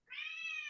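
A cat gives a single short, clear meow close to the microphone, alone against a quiet indoor background.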